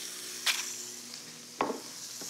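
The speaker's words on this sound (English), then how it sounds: "You hear that steak sizzling in the background." Steak sizzling in a frying pan, a steady soft hiss with two brief louder bursts of crackle, heard in the background of a kitchen with no talking.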